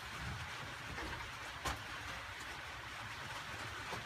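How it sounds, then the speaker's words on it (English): Steady rain falls outdoors, a soft continuous hiss with an occasional nearer tap or drip, fairly faint throughout. "And it's raining"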